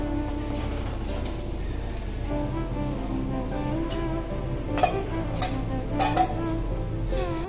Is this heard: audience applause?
no